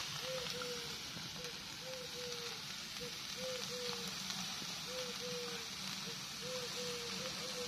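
Garlic sizzles and fries in a pan for a tajine, a steady soft hiss at low volume with faint stirring and a periodic squeaky tone repeating in the background.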